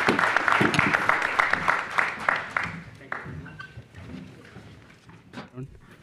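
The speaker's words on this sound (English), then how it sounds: "A big round of applause for our panelists." Audience applause for panelists at a business panel on AI, dense clapping loud at first and then thinning into scattered claps as voices talk over it.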